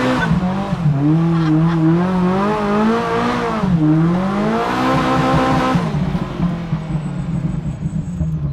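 A Ferrari performs a long burnout at a charity car gathering, its engine roaring steadily as the tires squeal continuously, loud and close, with the revs rising and dipping before easing near the end.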